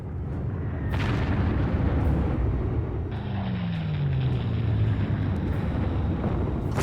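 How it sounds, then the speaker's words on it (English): Naval artillery fire in the Panzer Corps strategy game, a loud booming blast with rumbling low-end decay and a descending tone, sustained over several seconds with no talking. "ships ready to fire another shot, so this is more than enough artillery"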